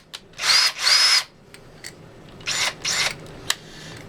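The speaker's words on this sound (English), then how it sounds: "So now I've got to drill that hole to 3/8 inch." A power drill bores a 3/8 inch hole in a metal drilling jig, sounding as two long whining bursts and then a pair of shorter ones, with brief clicks between them, close and fairly loud.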